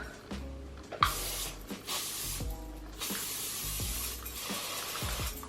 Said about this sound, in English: I like to take a little bit of hairspray and I just spray it onto the braids